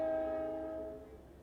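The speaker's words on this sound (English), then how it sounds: "And of course, a train is going by." A passing train close by, a steady horn-like tone with layered harmonics that holds for about a second, then fades under a low rumble.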